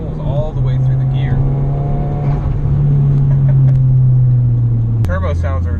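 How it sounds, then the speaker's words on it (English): Modified Saab 9-3 2.0 turbo pulling hard through the gears from inside the cabin, a loud steady engine drone rising in pitch with a shift near the end, while occupants talk over it. "Turbo sounds are just so much fun."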